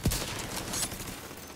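A burst of video-game gunfire hits loud and sharp right at the start, followed by a steady rattling wash of shooting and background din that continues to the end.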